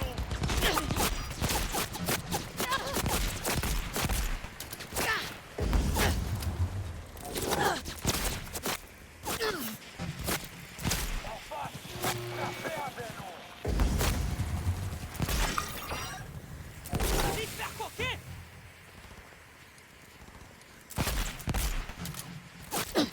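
DR5 Nova gun firing in Cyberpunk Phantom Liberty, a run of sharp, irregular shots with crashing impacts, spread across the scene with someone talking between and over the bursts.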